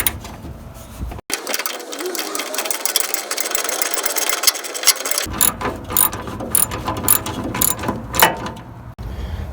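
Ratchet clicking rapidly in bursts as it backs out a half-inch radiator mounting bolt on a 1963 Mercury with a 390 FE engine, close and loud with metallic rattles and pauses between strokes.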